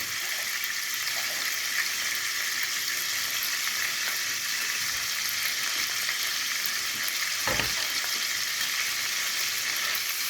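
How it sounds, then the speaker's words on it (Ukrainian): Pieces of liver sizzle and fry steadily in hot oil in a pan, a continuous close crackling hiss with no talk, plus one brief knock about two-thirds of the way through. "І тепер наша задача протушкувати печінку частинами."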